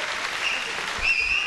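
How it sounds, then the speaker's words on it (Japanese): Crowd applause at a bantamweight boxing event after a technical knockout comeback win, dense and steady throughout, with a brief whistle-like tone riding over it near the end. "もう一度大きな拍手をお願いします。"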